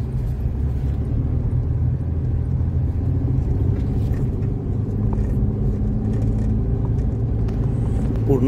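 A car holds first gear on a steep uphill road up to a Swami Samarth math at Kashedi, its engine a steady, close, low rumble throughout with no break.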